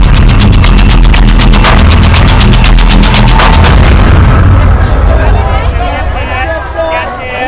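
A bomb blast at KC Market in Ujjain, dramatized for a crime series, roars as a loud, sustained explosion with rapid rhythmic crackling bursts that fade into a rumbling tail as voices emerge.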